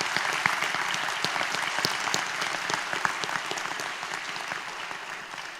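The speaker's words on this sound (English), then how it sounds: "Students, please join me in giving your families and friends a well-deserved round of applause." Audience at a university pharmacy college white coat ceremony applauds families and friends, a dense, steady round of clapping that fills the hall throughout and eases slightly toward the end.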